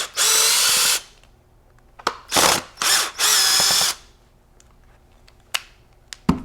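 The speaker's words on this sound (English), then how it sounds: "then a screwdriver or drill" A power drill backs Phillips head screws out of the recoil pad of a Benelli Montefeltro shotgun, close and loud. There are several whirring bursts of about a second each, separated by small clicks and handling taps.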